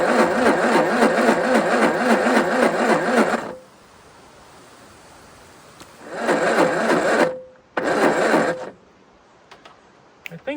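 An old engine that has stood unused for 50 years cranks over on its starter after a dose of starting fluid, rhythmic churning in three bursts: a long one, then two shorter ones, separated by quieter gaps, loud and close.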